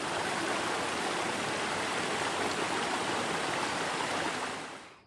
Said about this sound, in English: This trail runs along a brook,